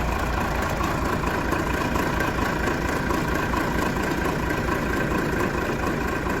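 A Manitou telehandler's diesel engine idles under repair, a steady, loud, close rumble with an even mechanical rattle and no pauses.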